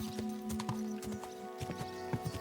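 Steady clip-clop of horse hooves in the video game Kingdom Come: Deliverance II, several quick strikes in an even rhythm over a constant synthetic ambient hum.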